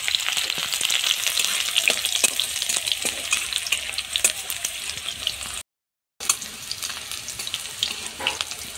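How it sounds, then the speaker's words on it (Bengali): Garlic fries in hot mustard oil in a wok with a loud, continuous crackling sizzle and occasional stirring scrapes, broken by one brief moment of silence before resuming. "রসুন ভাজা হয়ে গিয়েছে"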